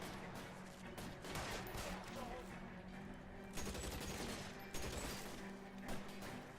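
Rapid video game gunfire from a police shootout crackles in quick bursts and scattered single shots, fairly distant and muffled, with a few sharper cracks standing out near the end amid background clatter.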